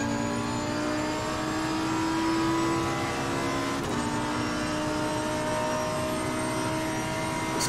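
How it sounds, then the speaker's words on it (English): A loud, steady racing car engine in the game Assetto Corsa Competizione drones at high revs with layered harmonic whine, holding a constant roar throughout with no talking. "This car's engine sounds incredible."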